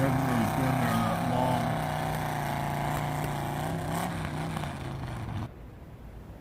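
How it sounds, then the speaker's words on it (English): A heavy machinery truck rumbles past at close range, its low engine drone loud and steady for several seconds before dropping away abruptly. "Boys, we're surrounded by heavy machinery."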